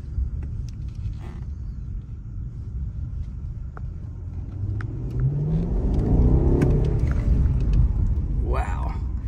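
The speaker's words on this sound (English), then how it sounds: "I'm gonna gas it around this corner once we hit the straightaway so you can hear me accelerate" A car engine accelerating out of a corner onto a straightaway, a low rumble that swells and climbs steadily in pitch over several seconds, heard from inside the car, with faint talk near the end.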